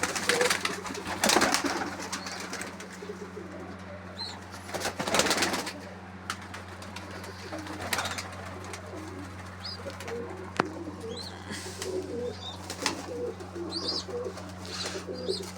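Pigeons coo softly and repeatedly in the background, with occasional chirps and wing flutters, no talking.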